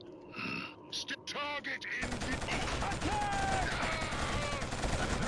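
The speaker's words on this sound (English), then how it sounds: "Because not only is it a sniper rifle, but it's apparently throwing out giant javelins." Sniper rifle in the Killzone shooter game fires a heavy shot with a sharp crack, then a mechanical reloading clatter and a dense, loud wash of battle noise.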